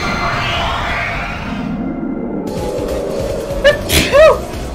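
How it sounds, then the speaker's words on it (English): A loud, sharp sneeze bursts out near the end, preceded by a couple of shorter breathy bursts, over a steady background of game music and ambience from a Persona 2 playthrough. "That was a nasty sneeze."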